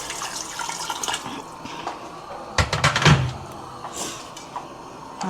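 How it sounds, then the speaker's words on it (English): More water is poured into a pot of cooking okro soup, a short close splash and gurgle swelling in the middle over quiet kitchen background noise, with no talking. "I'll be adding some more water."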